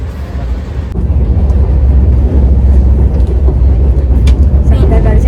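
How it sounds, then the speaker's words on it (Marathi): Steady low rumble and rattle of a passenger train running on its rails, heard from inside a coach, constant and fairly loud throughout. "संध्याकाळचे 6 वाजले आणि आम्ही अजून ट्रेन प्रवास करतोय"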